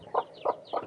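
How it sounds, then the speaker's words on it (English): A hen clucks three times in quick, evenly spaced calls, close and moderately loud. "My ugliest and meanest chicken, Nurse Ratchet."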